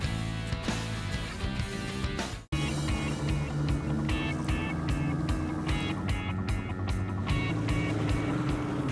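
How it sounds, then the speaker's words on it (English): A fishing boat motors back to its spot off Port Stephens, with a steady engine drone and water noise running throughout, broken by one brief dropout early on. "George is just motoring us back to the spot"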